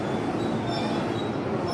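A JR 185 series Odoriko limited express train idles at a station platform, giving a steady low rumble and hum with a faint high whine running throughout, close and continuous.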